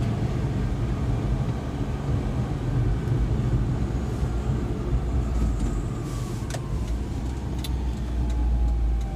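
Suzuki Carry non-turbo mini truck driving on a road, a steady low engine drone and road rumble heard from close inside or near the vehicle, continuous throughout with no talk.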